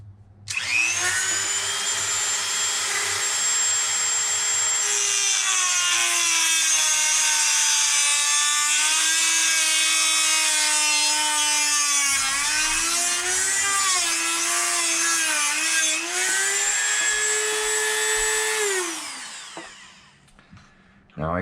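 A Dremel rotary tool cuts parts off an Arrma Infraction RC car, a loud, close, high whine that holds steady, dips in pitch under load mid-cut, then spins down near the end.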